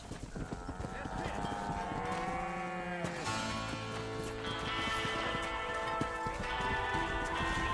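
Cattle herd in the Red Dead Redemption video game, lowing moos over a busy mix of hoof clip-clop, music and ambience, with people talking in between; the livestock calls sit amid a dense, continuous game soundscape.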